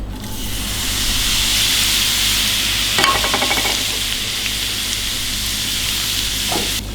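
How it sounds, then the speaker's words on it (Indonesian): Kaffir lime leaves crackle and sizzle in hot oil, a loud, continuous frying hiss with a brief burst of sharper spatter partway through and another small pop near the end. "Sekarang kita goreng daun jeruknya."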